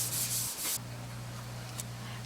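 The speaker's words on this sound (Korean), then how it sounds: "전면을 고운 사포로 갈아내는 마무리 작업에 들어간다." Fine sandpaper scrubs a traditionally crafted wooden wardrobe cabinet in a few brisk, loud rasping strokes, then gives way to quieter, lighter rubbing over a steady low hum.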